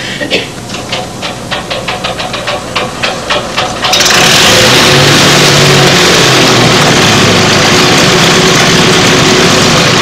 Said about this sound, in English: I think you have to start the engine, Joe.